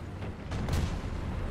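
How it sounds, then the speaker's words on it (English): Artillery fires in the tank video game War Thunder, heard as a muffled, distant boom rolling under a constant low rumble. "M8, artillery."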